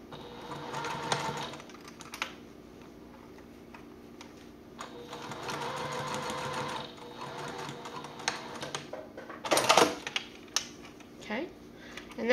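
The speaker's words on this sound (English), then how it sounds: "do a quick 1/8 of an inch top stitch" A domestic sewing machine topstitching an eighth of an inch along a folded seam on a fabric wallet, running in short bursts of rapid mechanical whirring separated by pauses, with a few clicks and handling noises nearby.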